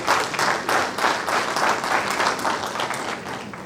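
Steady applause from a conference audience at an opening ceremony, many hands clapping in a dense, even wash that holds loud throughout without talk.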